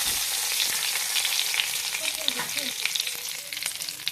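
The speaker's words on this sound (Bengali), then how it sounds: "এখানে আমি অল্প করে কড়াই তেল দিয়ে দিলাম, তারপর দিয়ে দিলাম একটা শুকনো লঙ্কা, আর দিয়ে দিলাম দুটো তিনটে মতো তেজপাতা।" A dried red chili and a few bay leaves fry in a little oil in a kadai, giving a steady, close crackling sizzle with scattered sharp pops and no talking.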